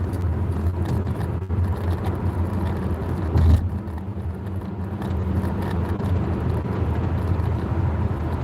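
A car drives along a road to work, heard from inside as a steady low rumble of engine and tyre noise with a brief thump partway through and no talk.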